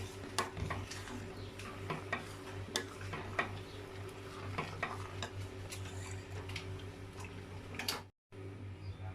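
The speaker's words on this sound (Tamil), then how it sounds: "நம்ம இப்போ இதை வந்து நல்லா மிக்ஸ் பண்ணி விட்டுக்கலாம்" Semolina kheer with condensed milk being stirred in a pot, with steady ticking spoon scrapes against the pan over a low hum, fairly quiet and alone, no voices.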